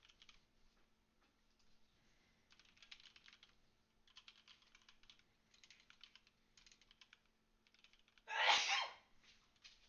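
A single loud, sharp sneeze bursts out near the end, following a stretch of steady computer keyboard typing in a quiet room.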